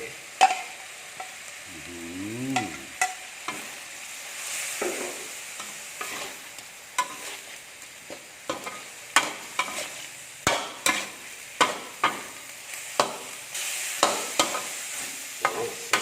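Chilies, bell pepper and onion sizzle and rattle in a hot pan while a utensil scrapes and taps it in a quick, irregular rhythm, close by.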